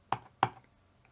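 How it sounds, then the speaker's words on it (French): Two sharp clicks about a third of a second apart, a computer mouse double-click, close and quiet against a silent background. "je clique 2 fois ici"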